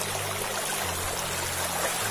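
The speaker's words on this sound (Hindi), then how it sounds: "तो देखो ये है नदी का कुछ नज़ारा" A mountain river in rural Uttarakhand flows past a bathing spot, giving a steady broadband rush of water that stays constant throughout with a low hum beneath it.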